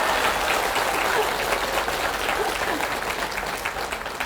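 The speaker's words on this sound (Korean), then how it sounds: "제 덕분에 박수 치신 거예요?" A lecture audience at a Buddhist temple talk claps loudly and continuously, a dense, even wash of applause from many hands with a faint murmur of voices underneath.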